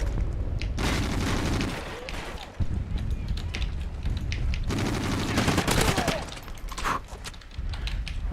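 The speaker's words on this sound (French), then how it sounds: "il y a un malade qui tire avec je ne sais quelle arme." Rapid, sustained gunfire in the PC shooter Call of Duty: Ghosts during a team deathmatch, with dense overlapping bursts and shots that are loud and close and continue almost unbroken throughout.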